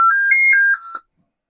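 Commodore 64 SID chip playing a test sequence of pure electronic beeping tones, several short stepped notes in quick succession, clean and close, ending abruptly into silence.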